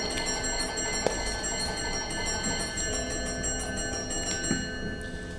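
A division bell rings continuously in a House of Commons committee room, a sustained metallic ringing that fills the whole stretch with no talk.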